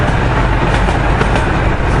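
A train passes close by on the railway, a loud, steady rumble and roar with faint clacking of wheels on rails, filling the whole stretch without a break.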